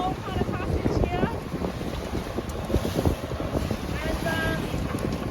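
A sailboat pushing through choppy water with wind against tide, heavy wind buffeting the microphone over splashing waves and hull noise, with a voice briefly audible beneath the roar.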